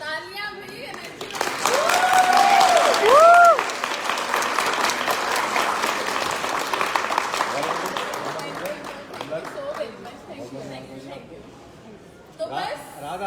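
An audience at a motivational talk breaks into loud applause, dense clapping mixed with cheers and whistles that swells early, then slowly thins and fades toward the end.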